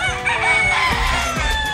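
A rooster, a broodcock, crows close and loud in one sustained call lasting the whole moment.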